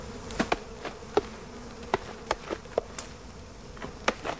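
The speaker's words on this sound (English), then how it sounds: "As the smoke rises through the layers of larvae, it chokes any remaining wasps" Wasps buzz around a nest being smoked out, faint with scattered sharp buzzes and clicks as insects fly close past, no talk.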